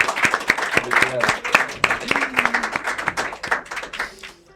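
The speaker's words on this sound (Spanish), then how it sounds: "Feliz cumpleaños para David, entonces un aplauso." A burst of clapping from a group of people, dense and uneven, with a few voices calling out over it.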